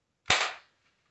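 An airsoft gun fires a single sharp, close shot at a BB trap target, a crisp crack with a brief fading tail and then silence.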